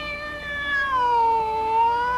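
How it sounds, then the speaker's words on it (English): Cat giving one long drawn-out meow that bends downward in pitch midway, clear and fairly close with no talking over it. "That meowing in the background is gonna get annoying when he tries doing a vlog"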